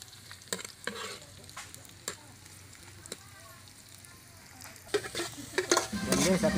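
Onion, garlic and ginger sauté in a pan for coconut adobo, with scattered spoon scrapes and clinks over a soft sizzle that swells into a louder, busier frying noise near the end.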